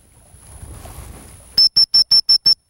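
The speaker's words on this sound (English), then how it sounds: "I'm gonna hit the hear whistle before she gets there" A dog-training recall whistle for an 11-month-old springer spaniel during water work sounds as six short, sharp, evenly spaced shrill pips, loud and close, following a few seconds of quiet outdoor background.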